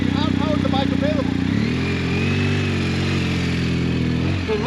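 Motorcycle engine held at low road speed with the revs kept up, a steady mid-pitched drone that shifts partway through, loud and close, with a person talking over it.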